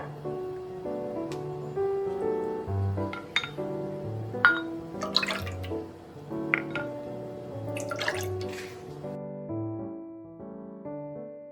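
Milk is poured into a pot in portions while making a chocolate milk agar dessert, giving soft liquid drips and trickles with light clinks over a background of gentle music.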